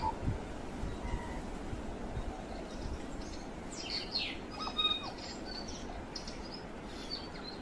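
A recorded New Zealand tui call plays from a button box, a faint mix of chirps, clicks and whistled notes scattered over a quiet outdoor background, soft and somewhat distant, with no talking.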